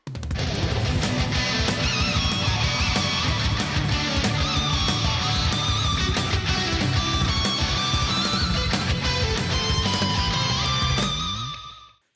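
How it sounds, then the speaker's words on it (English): Fast electric guitar riff with chugging palm-muted notes and squealing pinch harmonics in a heavy rock practice piece, played loud and dense without a break for about twelve seconds before it cuts off. "it's quite fast and there is palm muted notes mixed with pinch harmonics"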